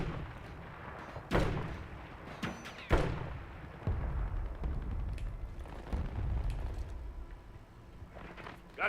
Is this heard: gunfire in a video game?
yes